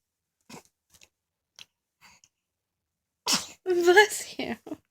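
Someone lets out a sneeze, preceded by a few faint sharp breaths and clicks, then a loud close burst with voiced follow-through in an otherwise quiet room.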